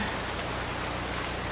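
Steady, dense rain falls and patters on surfaces in a continuous loud hiss.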